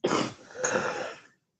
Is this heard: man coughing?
yes